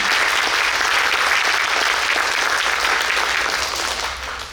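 An audience at an arangetram dance debut gives the performing team loud, full applause that continues without a break and tapers off in the final second.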